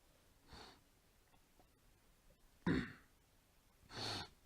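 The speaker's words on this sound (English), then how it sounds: "Sorry, I just have to clear my throat." A single narrator clears his throat in a few short, raspy bursts separated by quiet pauses, close to the microphone and with no speech around them.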